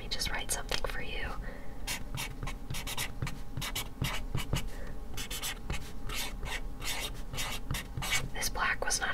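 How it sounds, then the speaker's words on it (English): Sharpie markers squeak and scratch across paper up close while doodling and writing, a steady run of short strokes in a quiet setting, with a faint whisper now and then. "Let me just write something really nice for you"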